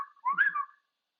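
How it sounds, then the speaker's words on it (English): A person whistles to get someone's attention at a job site, one short rising-falling whistle heard clearly and alone, then silence. "Jose's whistling at you"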